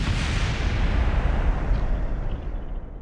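A rocket blowing up in the space flight game Kerbal Space Program, a loud, broad rumbling blast that holds steady for about three seconds and then begins to fade, with no talk over it.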